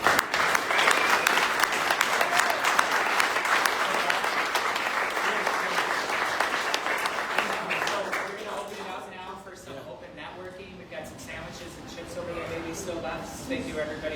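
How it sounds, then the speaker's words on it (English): Audience applause fills a real estate club meeting hall, loud and dense at first, then thinning into scattered claps that taper off toward the end. "Let's give a round of applause"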